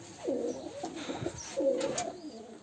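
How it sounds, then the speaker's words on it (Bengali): Lal Sundori pigeons coo nearby in a loft. Two distinct rolling, throaty coo phrases come in close succession, with no talking. "এটা আলাদা কবুতর ওই জোড়া লাল সুন্দরী এক জোড়া দেখাই"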